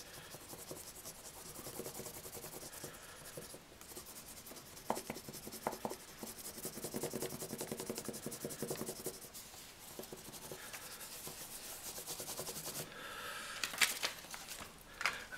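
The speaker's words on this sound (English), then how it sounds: "So again, rubbing around that outside edge." Crayon or pencil rubbed steadily over paper laid on a fish-shaped form to make a frottage, a continuous dry scratchy scraping with brief pauses and bursts of harder strokes, close and fairly quiet.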